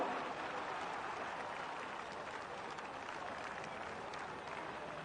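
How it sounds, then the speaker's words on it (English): A racecourse crowd at Kempton Park applauds steadily during a lap of honour after a race, a dense continuous wash of clapping with a faint crowd murmur beneath it. "plenty of applause for him tonight at Kempton Park as well"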